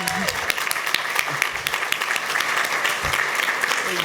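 A crowd applauds the Chicago housing commissioner with dense, bright clapping that keeps going the whole time, while a voice talks faintly underneath.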